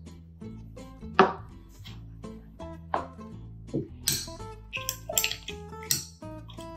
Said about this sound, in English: I'm just stirring everything to make sure that the starch doesn't have any clumps